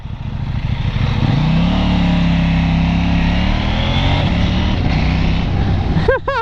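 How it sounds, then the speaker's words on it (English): A KTM 790 Duke motorcycle accelerates hard from about 30 mph in a roll-on race against a truck, its loud engine roaring steadily up through the gears with wind rush, close to the rider. "Zero from 30 mile an hour drag race with the truck"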